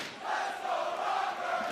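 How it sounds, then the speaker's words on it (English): An esports tournament crowd at a Call of Duty major cheers in a steady, roaring swell, a dense wash of voices that is moderately loud and somewhat distant. "The crowd now coming alive, Joe."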